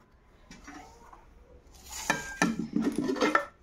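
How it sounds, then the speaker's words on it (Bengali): Hot cooked rice served onto a plate, quiet soft scraping at first, then a cluster of louder utensil and dish clinks and scrapes close by, with no talk. "আর ভাতটা বেড়ে দিচ্ছি, আজকে ভাতটা গরম আছে"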